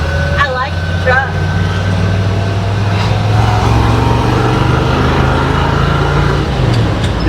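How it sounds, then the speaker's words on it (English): A truck engine idles and rumbles steadily with a throaty, race-car-like tone, holding a low continuous drone under people talking nearby. "It sounds like a race car engine"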